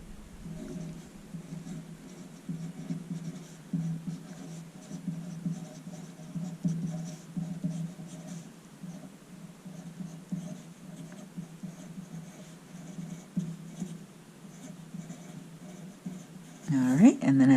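A pen or pencil writing a heading on paper in an art lesson, a soft continuous scratching with steady strokes, under a teacher's talk.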